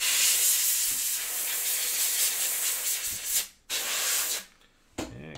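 A trading card from a 2022 Prizm World Cup soccer box is sprayed off: a steady broad hiss runs for about three seconds, cuts out briefly, resumes, then ends, followed by a short burst.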